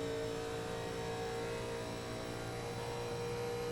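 A NASCAR Legends car in iRacing at Michigan, its engine droning steadily under hard throttle with a constant mid-pitched hum, loud and close throughout.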